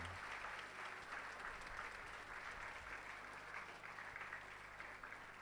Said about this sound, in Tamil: எல்லாம் கைத்தட்டலாம்.